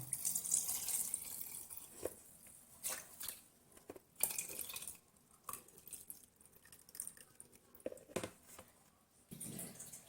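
Water runs from a tap into a glass jar of onions pickling in salt, coming in faint splashy bursts and trickles separated by quiet pauses.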